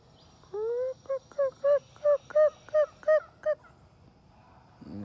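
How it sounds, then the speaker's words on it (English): A hen calls in a series of about nine short, evenly spaced clucks, loud and close, starting with one longer drawn-out note. "She was clucking."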